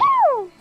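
A single short sneeze, fairly close and loud, with a falling tonal burst that trails off quickly.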